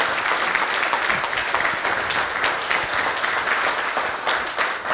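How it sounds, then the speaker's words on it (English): An audience at an American Legion post gathering applauds medics, producing a thick, continuous wash of clapping that holds at a fairly even level throughout, with no talking over it. "So let's give them a round of applause."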